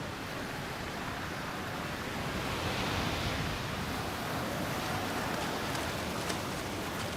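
Sea waves washing over a desert beach where young seals are swept by the rising tide, a steady dense hiss of surf and foam without clear separate breaks, moderately loud and constant.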